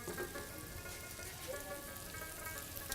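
Potatoes fry in a pan to build a crust, a steady dense sizzle and crackle held close and even for the whole stretch.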